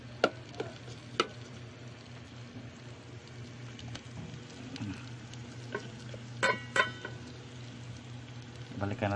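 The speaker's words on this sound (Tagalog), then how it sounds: "Ayan, gisahin lang muna natin ng konti." Ingredients being sautéed in a pan for a Filipino misua noodle dinner: a steady sizzle with occasional crackles and sharp pops over a low kitchen hum, close and clear, with no talking.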